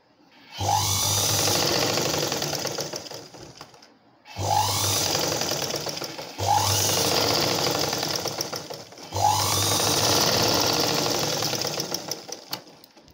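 A sewing machine stitches a shaped strip onto a blouse in four separate bursts, each a rapid whirring, knocking run of several seconds with short pauses between, close and clear with no voices.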